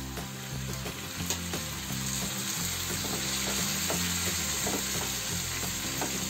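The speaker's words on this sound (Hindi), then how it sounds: "अब इसमें मैं टमाटर डाल देती हूँ।" Tomatoes hit a pan of browned onions and start frying, a loud continuous sizzle with utensil scrapes and taps against the pan throughout, no one speaking.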